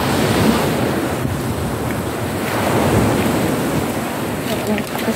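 Sea waves washing onto a shore where plastic bottles drift, a loud continuous surf wash with gusting wind buffeting the microphone, swelling and easing in broad surges.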